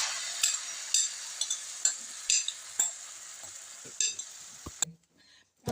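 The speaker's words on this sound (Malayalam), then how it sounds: "മുട്ടയുടെ ബാറ്റിൽ നമുക്ക് പാനിലേക്ക് ഒഴിച്ചു കൊടുക്കാം" Egg omelette batter goes into a hot pan and fries with a bright, hissing sizzle and several sharp utensil taps, close and fairly loud, before cutting abruptly to near silence.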